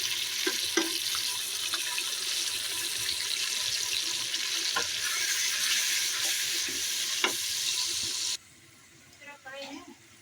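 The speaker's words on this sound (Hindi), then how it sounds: "अब हम सारे मसाले भून लेंगे।" Ginger, garlic and spices frying in hot oil in a home kitchen, a steady loud sizzle with occasional stirring clicks that stops abruptly near the end, leaving quiet clatter.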